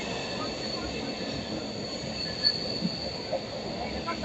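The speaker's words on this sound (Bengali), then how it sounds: "আমাদের ট্রেনের গতি হালকা হালকা বাড়িয়েছে, গতি বাড়াচ্ছে" Ranchi Intercity Express speeding up near Howrah, heard from on board as a constant loud rumble of wheels on rail with a squealing metallic edge and a few faint clicks, close and continuous.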